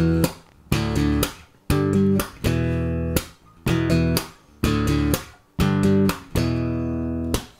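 Chords strummed on an electric bass ring out in a steady repeating pattern, each broken by sharp percussive knuckle hits on the strings, loud and close with no speech.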